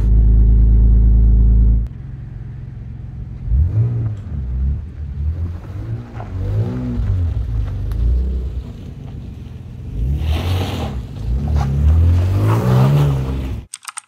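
MG ZT 190 engine idling steadily up close, with a slight exhaust blow and no inlet rattle, its deep rumble swelling in two louder stretches before cutting off abruptly at the end.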